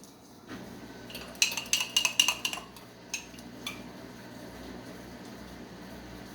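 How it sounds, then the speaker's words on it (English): A spoon scrapes and clinks against a pot of Jamaican stew peas, a short cluster of metallic knocks in the middle followed by a couple of softer taps, close and fairly quiet. "Make sure you stir that it don't burn from the bottom."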